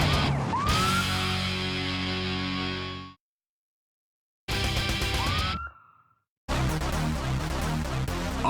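A police car siren on a chase after a stolen truck in Memphis, Tennessee, wails loud and slightly distorted in rising sweeps, cut into bursts separated by abrupt silences.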